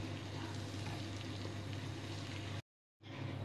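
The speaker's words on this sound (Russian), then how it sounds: "Перемешиваем хорошенько." Flour is stirred into a simmering sauce in a pan for chicken meatballs with rice. A soft, continuous sizzle and scraping bubbles close by, broken by a brief silence before it resumes.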